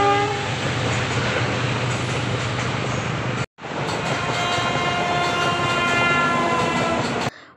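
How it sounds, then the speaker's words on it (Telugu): A train passes close by with a long sustained horn blast and rumbling wagons, loud throughout, cutting out briefly midway before the horn and rolling noise resume, heard during a motorcycle long drive from Hyderabad toward Adilabad. "ఇప్పుడైతే మనకు ట్రైన్ వచ్చేసింది చూడండి."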